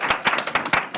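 A few people in a startup investing talk audience clap briefly, about four distinct sharp claps within a second, close and moderately loud.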